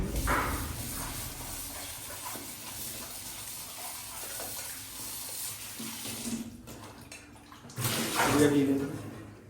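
Tap water runs over ridge gourd in a sink, a steady close hiss and splash that continues throughout and swells briefly near the end, with a voice speaking over it.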